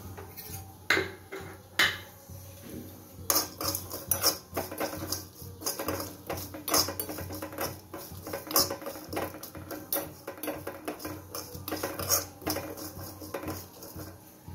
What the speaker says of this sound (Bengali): আলুটা সেদ্ধ হতে হতে আমি ভাজা মশলার জন্য যে মশলাগুলো নিয়েছিলাম সেইটাকে একটা রোস্ট করে নেব হালকা করে।